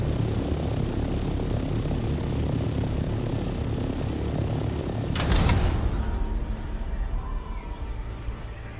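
A flying craft gaining altitude in the video game Dune Awakening, a loud continuous engine roar with a sudden sharp whoosh midway, after which the drone thins out and continues.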